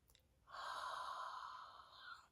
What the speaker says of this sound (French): Inspirez par le nez.